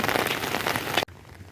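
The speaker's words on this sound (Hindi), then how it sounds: "तो यहाँ मैं आप सभी के साथ बारिश इंजॉय कर रही हूँ" Steady rain pattering on a surface, loud and close, continuous for about a second before cutting off abruptly to quiet.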